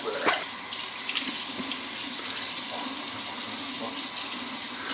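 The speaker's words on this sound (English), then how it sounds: "I get my pot, pour the water in." Tap water pours steadily into a pot, a continuous splashing rush with a few soft knocks near the start.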